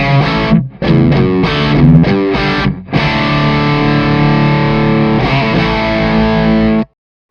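Distorted electric guitar played through a Cornford MK50H 50-watt tube amp head with 12AX7 valves, heavy crunchy chords with short choppy stabs, then a long sustained ringing chord that cuts off abruptly; loud and close, no talking.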